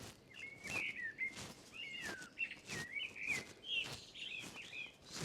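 Birds singing in early April during spring migration at Woody Bay, St Lawrence, Isle of Wight: repeated bright whistled phrases and chirps, moderately near, over a faint breezy outdoor background.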